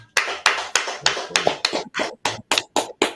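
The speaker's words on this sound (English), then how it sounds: "Everyone clap it up." An audience at a class session claps in a slow, steady rhythm, about a dozen distinct claps in sequence, fairly close and clear, with no talking over them.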